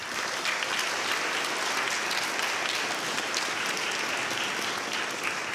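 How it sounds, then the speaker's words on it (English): Sustained, dense applause from a large audience at a school ceremony honoring the junior class, steady and loud throughout with no pauses. "A round of applause for our juniors."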